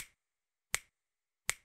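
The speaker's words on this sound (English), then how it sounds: "Then there's our finger snap," Three sharp, dry finger snaps from body percussion, evenly spaced about three-quarters of a second apart, close and crisp with silence between them.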